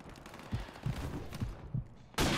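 Sniper rifle fire in Modern Warfare Remastered online play, several sharp cracks spaced about half a second apart, ending with a louder blast of noise.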